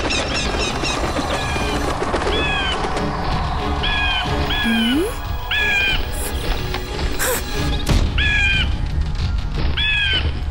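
A cartoon hawk in a children's animated story gives repeated harsh, cawing cries over a busy, loud music and effects bed, with a brief sliding whistle midway.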